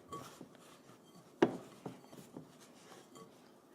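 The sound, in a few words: mixing dumpling dough in a bowl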